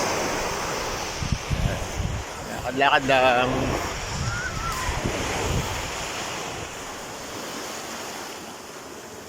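Surf washes steadily onto a beach at Casa Dingin in Alitagtag, Batangas, a continuous close wash blended with wind rumble, while people talk briefly over it.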